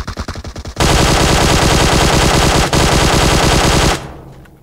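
PUBG Mobile gunfire, starting with a few spaced shots, then a long continuous automatic burst lasting about three seconds with a brief gap, loud and close before cutting off.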